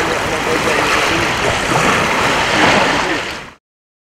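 Sea surf washes in at a central city beach in Anapa, a loud broadband rush of breaking waves with wind across the microphone, cutting off abruptly after a few seconds.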